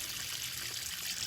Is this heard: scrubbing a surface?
no